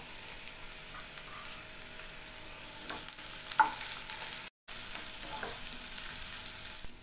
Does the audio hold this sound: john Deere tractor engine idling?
no